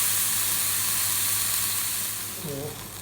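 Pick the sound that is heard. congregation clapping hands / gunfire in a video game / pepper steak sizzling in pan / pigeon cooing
pepper steak sizzling in pan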